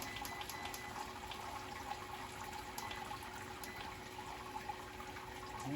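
Beer wort for an apricot saison heating toward a boil in an Anvil Foundry electric brewing system on 220 volts, a steady low rush and bubbling churn with a faint constant hum, continuous and moderately quiet throughout.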